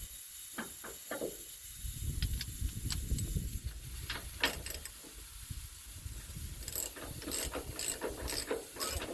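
A ratchet wrench works on a very tight nut, giving quiet bursts of rapid pawl clicking in short strokes over a steady background hiss, with no speech.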